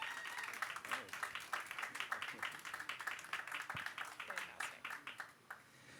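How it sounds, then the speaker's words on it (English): A conference audience claps for panelists in a scattered, moderately quiet round of applause, irregular individual claps merging and tapering off toward the end, with some voices underneath. "please, first a round of applause for our panelists, Joy Howard from Back Market, Dave Kersey fr"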